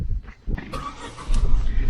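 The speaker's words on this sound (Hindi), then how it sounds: "अब हम भगाते हैं गाड़ी श्रीनगर की तरफ" A car on the road from Leh toward Srinagar pulls away, its engine surging loud and close in a short burst of revving and road rumble, with no one talking.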